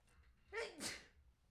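A single sharp human sneeze bursts out twice in quick succession over a quiet room, fairly close and loud against faint background hum.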